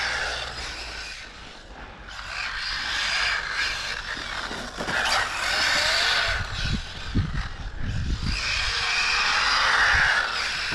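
The VS2 vehicle accelerating on a test drive, with a broad engine and road roar that dips, then swells louder with rough low rumbling bursts near the end, no talk.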